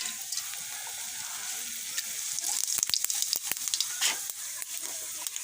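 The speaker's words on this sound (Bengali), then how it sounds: "আর অল্প একটু জিরে ফোড়ন দেবো।" Cumin seeds with cardamom, cinnamon and cloves crackle in hot oil in the pan where koi fish were just fried, a steady bright sizzle punctuated by rapid pops and sharp spits through the middle.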